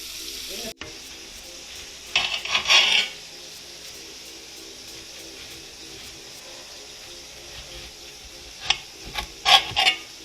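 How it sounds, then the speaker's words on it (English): Onions cook on a stovetop with a low steady sizzle, stirred at intervals with scraping and clattering bursts near the start and end, with no clear talk. "We're going to cook our onions, y'all."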